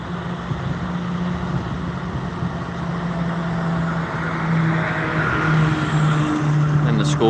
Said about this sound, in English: School bus goes by at the same time.